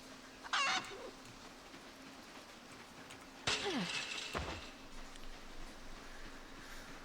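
Chickens cluck in a video game as four hens and a rooster are released: a sharp burst of clucking near the start, then a louder, longer run of squawking and clucking midway, over a steady game background hum.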